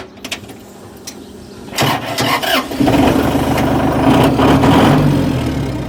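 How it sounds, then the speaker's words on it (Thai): A used Iseki tractor's diesel engine cranks and fires up, then runs steadily at a loud, close idle with a rough, throbbing rumble. "เดี๋ยวฟังเครื่องยนต์นะครับฟังเสียงเ ครื่องว่าแน่นแค่ไหน"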